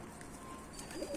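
Pigeons on a rooftop coo softly, a quiet low murmur that swells slightly toward the end against faint outdoor background noise.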